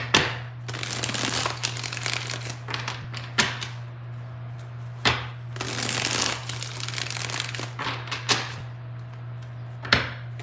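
A deck of tarot cards is shuffled three times, each bout a loud, close riffle and crackle of card stock, separated by sharp taps and short pauses.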